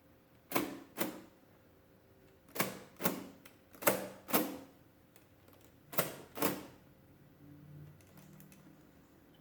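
Keys pressed on a Comptometer 3D11 mechanical calculator under repair, sharp clacking strikes in pairs and small clusters with pauses between, close and distinct in a quiet room.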